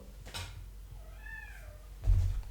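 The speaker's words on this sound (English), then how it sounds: "Oof, that cat" A cat gives a single clear, rising-and-falling meow at close range, set between soft knocks and thuds in a quiet room.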